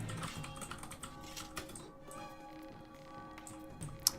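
Someone types on a Halo-branded mechanical keyboard, a soft, steady patter of key clicks with a few sharper taps and no voices.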